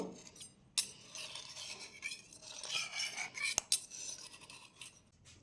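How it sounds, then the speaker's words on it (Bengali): A metal spoon scrapes and rubs around the inside of a bowl holding steamed egg, soft grating strokes with a couple of sharp clinks, close and quiet, no speech. "একটা চামচ দিয়ে সাইড দিয়ে এভাবে ঘুরিয়ে নেব"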